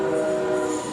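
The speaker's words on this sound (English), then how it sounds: "A train is coming." A train approaching a road crossing sounds a steady, loud horn chord over the rumble of its movement, held close and continuous for the whole moment, with no talk.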